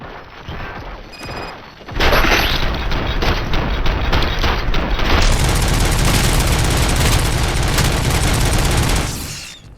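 Heavy gunfire in the video game RoboCop: Rogue City: a brief lighter opening gives way to a loud, dense, continuous barrage of shots and booms that fades out just before the end.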